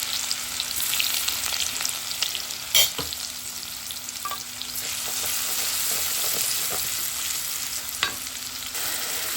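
Garlic and onion fry in a pan, a steady near sizzle broken by a couple of sharp utensil knocks and scraping stirs, with no speech.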